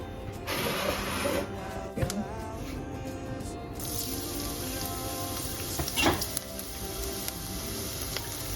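Garlic sizzling in hot olive oil in a pot for risotto: a steady, bright hiss and crackle that starts suddenly and keeps going, with faint clinks of utensils.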